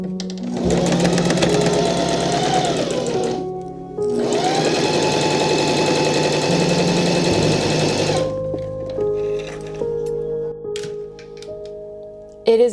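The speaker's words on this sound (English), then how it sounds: "Now I need to get my sewing machine out" A home sewing machine stitches darts on a 1967-pattern party mini dress, set up on the floor. It makes two long bursts of rapid, buzzing needle chatter separated by a short pause, close and loud, then quieter clicks and handling noises.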